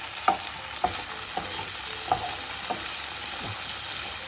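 Okra (lady's finger) with green chilies sautéed in a pan, Kerala style. Roughly six distinct stirring scrapes come at a loose, even pace over a constant soft sizzle, with no voices.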